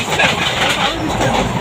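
A moving passenger train carries a steady, close rumble and rattle of rolling stock, a continuous broadband noise heard from inside with no clear speech.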